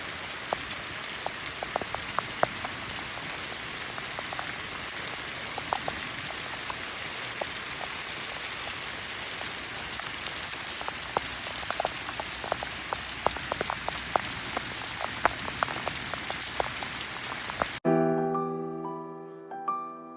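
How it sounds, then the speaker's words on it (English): Heavy rain from a storm beats steadily on surfaces around a garden, a dense continuous patter with scattered louder drops, and no voices. "it's been storming really bad"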